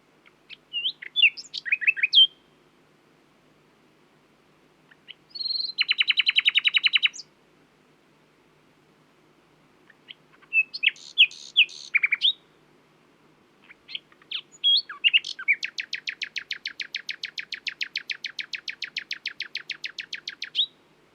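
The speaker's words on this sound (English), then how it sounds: "the song of the nightingale, so named because they often sing at night" A nightingale sings in separate bursts: quick varied chirps, a rapid buzzing trill, then a long fast repeated rattle, clear and close with silence between phrases.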